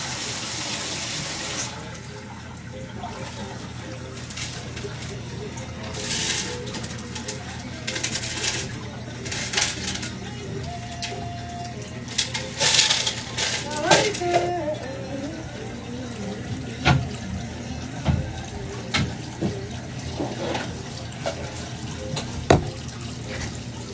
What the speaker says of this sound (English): It just kind of like filters through all the rocks, and then it overflows anything. Flows out of there.